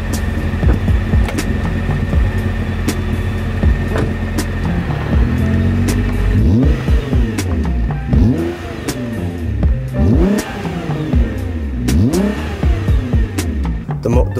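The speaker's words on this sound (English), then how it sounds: "Y'all want to see a launch or something?" A Nissan GT-R with a 3.8-liter twin-turbo engine launches hard, first rumbling loudly at a steady pitch, then revving up through several rising sweeps as it accelerates through the gears, loud and close with no talking.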